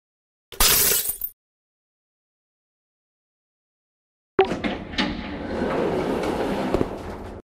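In a monster-school escape game, a wall button clicks with a brief rattling burst, then after a silence a door slides open with a sharp clunk followed by several seconds of steady mechanical rumble.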